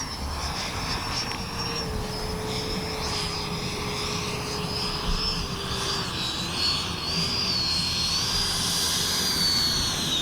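A Freewing A-6 RC jet flies with a steady high turbine whine whose pitch slowly drifts and wavers, loud and continuous throughout with no pauses.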